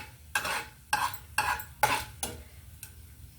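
Tempering spices sizzling in a pan for a tomato and spinach roti pachadi, with a soft frying hiss and about five sharp stirring scrapes at a steady beat, close and alone.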